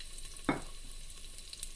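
Chopped onion frying in oil makes a faint steady sizzle with a single brief scrape of a spatula, quiet and with no speech.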